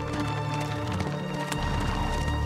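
A horse gallops in Assassin's Creed Mirage, its steady, close hoofbeats running continuously under a dense layer of game ambience and music.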